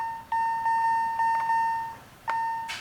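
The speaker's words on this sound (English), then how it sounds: "The sound option adds a pretty annoying ding to every selectable icon in the menu here." Repeated electronic menu dings from a GameBoy game's sound option, a clear steady tone sounded several times in quick succession with short gaps, ending in a brighter burst, alone without talk.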